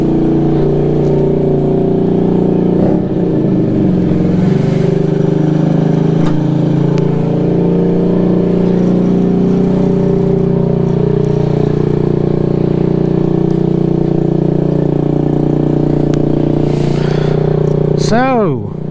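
Honda Ruckus scooter cruising around a neighborhood, its small engine droning loud and steady close to the mic with wind rush, the pitch shifting slightly as it rolls along, and a brief rising whine near the end.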